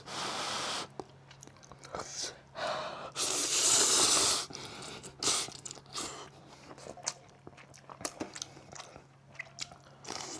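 Crunchy bites and chewing of altari radish kimchi, close and loud, with repeated wet crunches, a louder burst of chewing midway and breathing in between.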